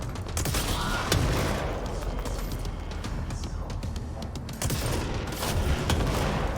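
In the video game Control, an overpowered weapon fires rapid volleys of shots. Dense bursts of sharp bangs with mechanical clatter run almost continuously.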